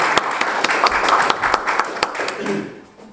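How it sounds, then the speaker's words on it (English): Applause from an audience at a talk about the total solar eclipse, dense clapping held steady for a few seconds before tapering off, with a voice briefly heard near the end. "Could we give him an equally warm round of applause?"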